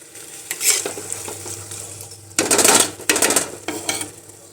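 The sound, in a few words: stirring cooked vegetables in a clay pot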